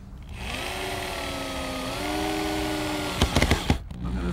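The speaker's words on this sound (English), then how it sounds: "We're going to drive these screws in." A power drill drives 2.5-inch rust-proof screws into a wooden window box, its motor whirring steadily and rising in pitch as it works, followed by a few short sharp knocks and bursts at the end.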